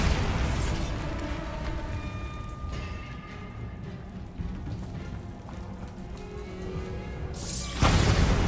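A Bombarda blasting spell goes off in Hogwarts Legacy, a broad rumbling burst that decays into crackling debris and ringing tones, then a second loud blast near the end.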